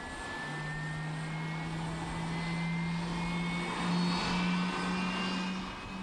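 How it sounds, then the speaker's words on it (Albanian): A four-engine Boeing 747-400 jet airliner takes off with a steady, loud roar and a sustained engine whine that swells slightly midway, with no voices. "Këta avion ngrihen nga toka në saj të ndihmës së katër motorëve"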